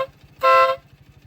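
A compact car horn sounds one loud, steady harmonic toot of about a third of a second, standing clear above a low, rhythmic background throb.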